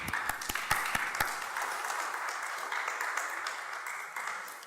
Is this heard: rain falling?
no